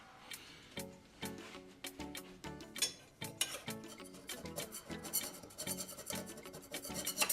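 Stainless steel wool rubbed hard against a surface, giving repeated rasping strokes in an uneven rhythm that grow denser and louder toward the end, close up with no talking.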